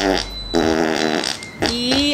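A fart sound imitated by pressing the mouth against an arm, loud, close, buzzy blasts in two bursts with a brief gap between them, over a lively studio setting.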